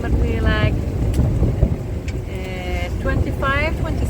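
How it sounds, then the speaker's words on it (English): Strong wind roars steadily across the microphone aboard a sailing boat with three sails up and reefed main and mizzen, gusting near La Gomera, with a few voice-like tonal bursts cutting in over the constant rush. "closer to La Gomera, here we go again. A lot of wind"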